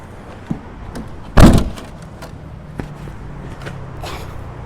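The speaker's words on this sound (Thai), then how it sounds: "เดี๋ยวผมปิดฝาท้ายก่อนแป๊บหนึ่ง" A single heavy slam as the tailgate of a 2021 diesel 2.8 vehicle shuts, sharp and close, followed by quiet outdoor background.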